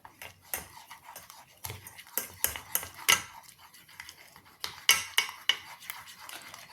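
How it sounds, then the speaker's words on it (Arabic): A metal spoon stirring a spoonful of starch into a homemade soap mixture in a bowl, giving repeated sharp clinks and scrapes against the container in an uneven rhythm, close and fairly loud with no talking. "ومن بعد غادي نزيد معلقه ديال النشا اللي هو مايزينا وغادي نحركوها"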